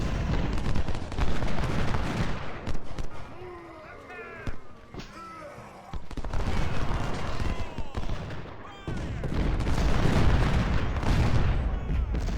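Cannon and artillery fire from a video game battle booms repeatedly in dense rolling bursts, loud and close, mixed with battle noise and layered under talking voices.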